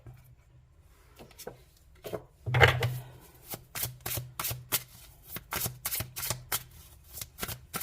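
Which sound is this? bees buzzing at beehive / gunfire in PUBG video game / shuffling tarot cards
shuffling tarot cards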